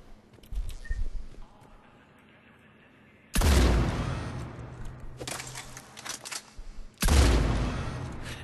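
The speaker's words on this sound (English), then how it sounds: "Very high powered shotgun though." A Claymore shotgun in Mass Effect 3 fires three thunderous, widely spaced blasts, each with a sharp crack and a long ringing decay, after quieter scuffling and handling noise at the start, with no talking.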